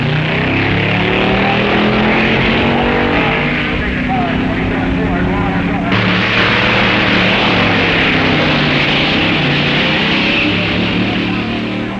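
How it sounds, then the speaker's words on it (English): 1959 Nationals drag racing cars making time-trial test runs, with loud, continuous engine roar and shifting pitch throughout, under a voice talking over it. "crews make run after run, trying to get their cars in perfect tune."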